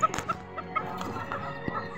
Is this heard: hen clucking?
yes